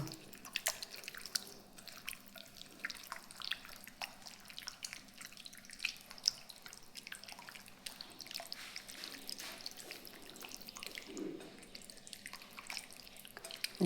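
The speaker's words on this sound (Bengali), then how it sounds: "এখানে আমি মাংসটাকে ভালোভাবে মেখে নিচ্ছি" Chicken being hand-mixed with salt and spices into a marinade, giving soft, quiet wet squishing and dripping sounds that continue steadily throughout, close up with no talking.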